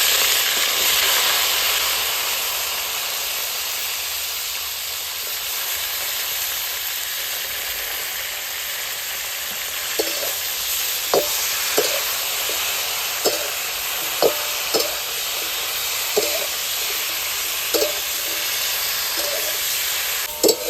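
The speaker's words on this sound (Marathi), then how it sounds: "तेल चांगलं तापलेलं आहे आता त्याच्यात वांगे टाकून घेऊ" Steady frying hiss in hot oil, with a series of sharp clinks and taps from stirring in the second half; no voices.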